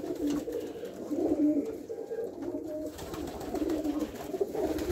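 Racing pigeons coo steadily in a loft, a soft, continuous overlapping murmur of low throaty calls close by, with faint rustling and no speech.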